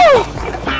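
A single short, high dog yelp that slides downward in pitch, close and loud, followed by quieter background noise.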